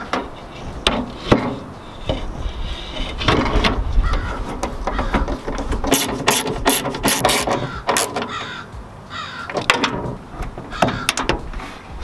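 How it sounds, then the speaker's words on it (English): A window regulator inside a Mazda Miata door is moved to its halfway position, giving close, busy mechanical rattling, clunks and scraping of metal and plastic parts that continue unevenly throughout. "To reinstall the window, you'll want to put the regulator at about halfway down like that."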